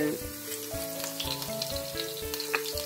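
Three garlic cloves sizzle and crackle in hot oil in a pan, a close, steady frying hiss with stirring scrapes, for a dish of Cameroonian fried beans.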